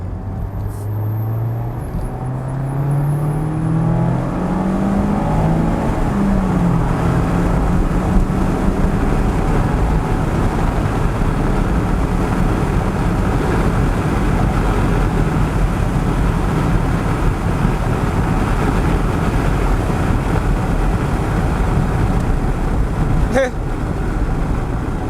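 A 2025 Mazda Miata Grand Touring accelerates along West Virginia backroads, its engine note climbing through gears in rising sweeps, then settling into a loud, steady drone with heavy road and wind noise and no talking.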